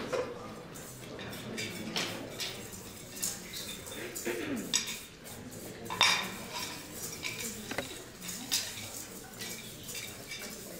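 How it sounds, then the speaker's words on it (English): A whisk folds a yuzu chiboust mixture in a bowl, producing soft scraping strokes and light metallic clinks against the bowl in an irregular rhythm, close and quiet. "we'll kind of fold the rest of it in with the whisk"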